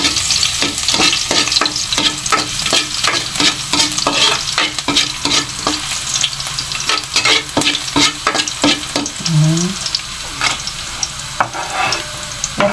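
Coarsely chopped garlic sautés in oil with a loud, close sizzle, broken by rapid spatula clicks and scrapes against the pan for most of the stretch. No one speaks.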